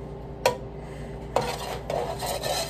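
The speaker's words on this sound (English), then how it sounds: "garlic powder, we're gonna give that a good mix" A spoon scrapes and clinks against a pot while mac and cheese with garlic powder is stirred, a few distinct knocks followed by softer rubbing scrapes, fairly close and quiet.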